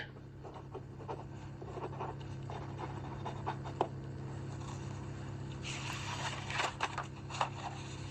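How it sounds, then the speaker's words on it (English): Quick handwritten notes, faint pen scratching and tapping strokes in short irregular bursts, growing busier toward the end over a steady low background hum. "I'll write this down real quick."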